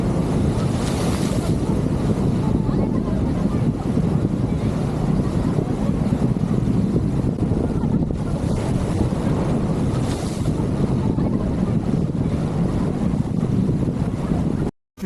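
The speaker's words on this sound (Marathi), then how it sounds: "पाहू शकताय समुद्राच्या लाटा येऊन कशा खडकाला धडकतात" Sea waves at Dwarka in Gujarat crash against rocks along the shore, a dense, continuous roar of surf mixed with strong wind noise on the microphone, loud and unbroken with no talking.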